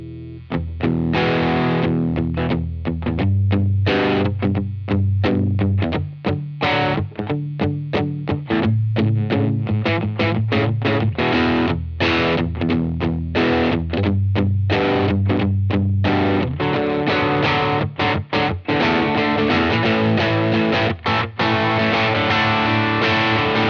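Heavily distorted electric guitar through a Lytt Effects ORE pedal at lower gain, playing chords and riffs continuously, loud and saturated with a crunchy, moderately driven tone and no voices.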